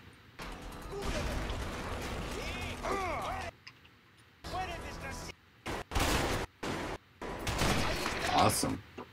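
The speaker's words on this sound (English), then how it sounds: "I think it's a grenade launcher." A grenade launcher fires in the video game A Way Out, giving sharp bursts of gunfire and mechanical clatter in broken, irregular groups, mixed with game effects and people talking.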